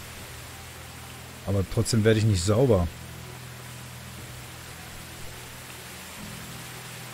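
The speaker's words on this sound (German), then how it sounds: "Einmal durch den Regen." Steady rain falls across a Medieval Dynasty game world, a soft, even hiss filling the whole clip with one short burst of speech breaking in near the start.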